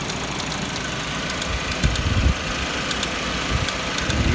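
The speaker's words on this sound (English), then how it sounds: "I think this compressor has grenaded itself and has contaminated the system" A failing air-conditioning compressor in a Suzuki SX4 car runs under the hood, a loud steady mechanical drone with a rough knocking rattle and faint periodic ticks, heard up close with no talking.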